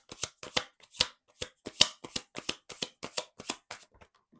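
Tarot cards shuffled by hand, a steady run of crisp riffling bursts and soft slaps, close and fairly loud, about a dozen quick strokes with no talk.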